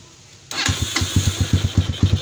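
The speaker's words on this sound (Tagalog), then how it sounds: "So pandarin natin ulit yung motor." Honda XR200 motorcycle engine cranked and fired after a short quiet lead-in, then settling into a steady, rhythmic thumping idle close by with no talk.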